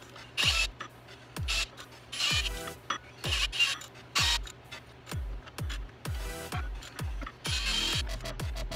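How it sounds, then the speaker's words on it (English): A ratchet on the crankshaft of a 408W Clevor engine, a Windsor with Cleveland heads, clicks repeatedly as the crank is slowly turned. Close, metallic pawl clicks come in uneven bursts with short pauses between strokes. "I've got a ratchet here on the crankshaft, and I'm just gonna slowly turn it around"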